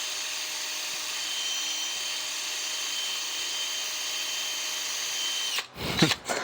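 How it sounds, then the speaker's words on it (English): A steady, high-pitched power drill whirs continuously, then briefly bites and stutters near the end as the bit grinds through wood while closet shelving is installed. "I actually know when the drill bit's gotten down to the tape"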